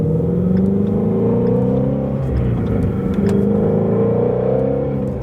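Ford Shelby GT350 engine revving up through the gears to about 4,000 RPM, a loud steady roar rising in pitch, dropping briefly at the shift, then climbing again, heard from inside the car.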